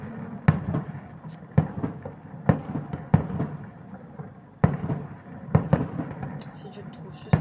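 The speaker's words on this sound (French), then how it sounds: "C'est quand même toujours stylé les feux d'artifice en vrai." A distant fireworks display crackles and booms, with around ten sharp bursts at irregular intervals echoing across open air, moderately loud, with people occasionally talking in between.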